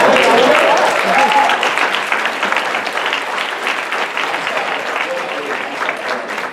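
Applause from a modest audience at a panel talk on hip hop, starting loud and thinning gradually into scattered clapping over several seconds.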